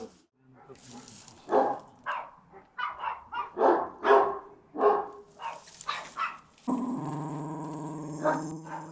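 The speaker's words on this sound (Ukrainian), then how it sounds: "Своя собака не пускает." A dog barks and growls in short, repeated bursts near a frontline position in Robotyne, Ukraine. People talk around it, and a steady humming drone joins toward the end.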